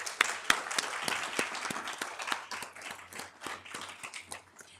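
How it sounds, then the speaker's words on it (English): At a breakfast forum, an audience applauds steadily, many hands clapping in a dense patter that gradually thins out. "let's just give them a round of applause"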